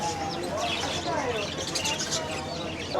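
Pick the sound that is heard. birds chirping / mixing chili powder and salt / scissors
birds chirping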